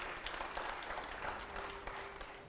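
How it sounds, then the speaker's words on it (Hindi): Applause from a live studio audience during a televised Hindi debate show, a steady dense wash of clapping held for a couple of seconds with no talk over it. "जोरदार तालियों के साथ अगला सवाल प्ले करिए जरा।"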